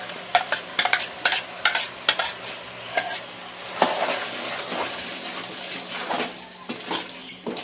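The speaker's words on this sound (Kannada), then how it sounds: "ರುಬ್ಕೊಂಡಿರೋ ಖಾರ ಸೇರಿಸ್ಕೊಳ್ತಾ ಇದ್ದೀನಿ." Ground chili paste is stirred into a frying pan for a cauliflower and green pea masala gravy, with spatula scrapes and clinks over a soft sizzle, heard close and in irregular bursts.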